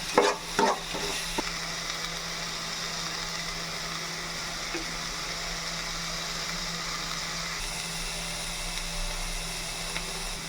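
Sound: frying ginger and garlic paste in a pan

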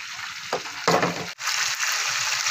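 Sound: chicken being turned over while frying in a pan

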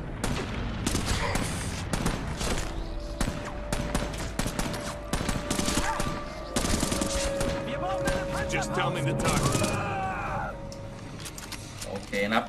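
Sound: gunfire in a video game

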